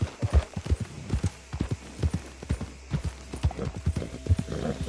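Horse galloping in the video game Red Dead Redemption 2, a quick rhythmic run of heavy hoofbeats pounding close and loud throughout, with no talking.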